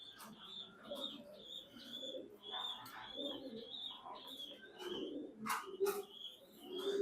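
Soft cooing from a racing pigeon held in the hand, a down-shade bird with silky feathers, comes in repeated low murmurs, faint and close, with light rustling and a few sharp chirps mixed in.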